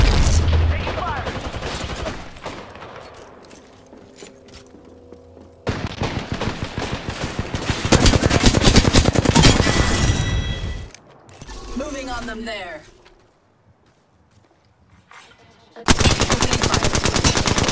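Automatic weapons rattle in Apex Legends, sustained machine-gun bursts and a ratcheting reload clatter, loud and close, with voices calling out over the shooting and brief lulls between volleys.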